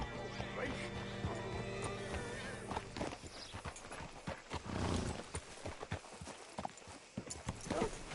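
Horse hooves clip-clop irregularly on a hard surface, fairly close, with a low rumble and some background voices mixed in.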